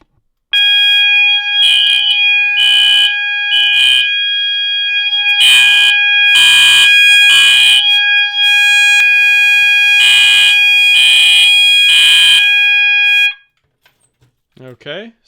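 A fire alarm blares loudly in repeated pulsing bursts with a steady high tone underneath, continuing for over ten seconds before cutting off abruptly.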